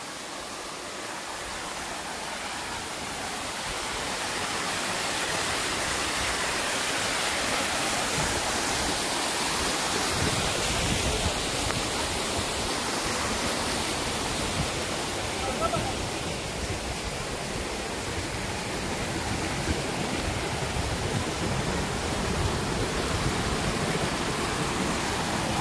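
The perennial Dhodhavane waterfall in the Konkan roars steadily, a dense, unbroken wash of falling water that swells slightly after the first few seconds and stays loud and close throughout.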